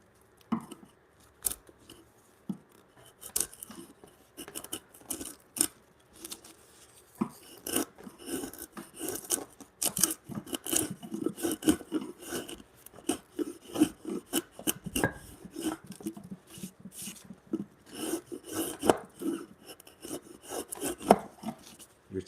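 Hand chisel paring timber at a workbench during corner-brace joinery for a timber bunk bed, giving close, repeated scraping and rasping strokes in uneven bursts that grow busier and denser after the first few seconds, with no talking.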